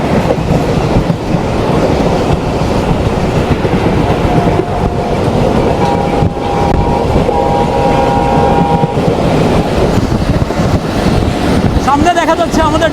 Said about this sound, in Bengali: আমরা পুরোপুরি রূপসা রেলওয়ে সেতু পার করলাম